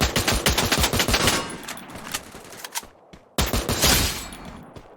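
Rapid automatic gunfire in the video game Free Fire, dense bursts of shots that thin out into scattered single reports, then a sudden fresh loud burst after a brief gap.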